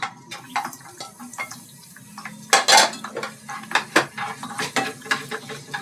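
Onion going into a cooking pan for a quick home-cooked dish, heard as a run of close, sharp clatters and scrapes of a utensil against the pan, with no talking.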